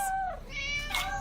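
Two cats meowing in a Halloween commercial, one drawn-out meow followed by a second higher, brighter meow, close and clear with no talking.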